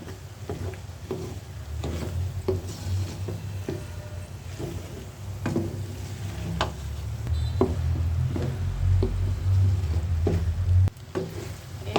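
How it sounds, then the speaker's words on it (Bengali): Eggs stirred in a hot pan, soft sizzling under repeated scraping and clicking of a utensil against the pan, steady and close throughout. "ডিমগুলো আমি একটু একটু করে দিয়ে দিলাম এবার আমি ভালো করে নাড়িয়ে নাড়িয়ে সেদ্ধ করে নিব"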